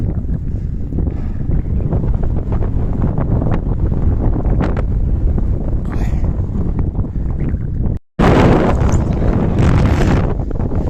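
Strong mountain wind in a high valley in the Slovak Tatras roars and buffets the microphone continuously, a loud rumbling gust noise that cuts out for an instant and then returns even harsher.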